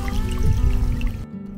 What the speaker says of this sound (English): right next to the small stream, which I think will give me a very nice water flow sound for the night.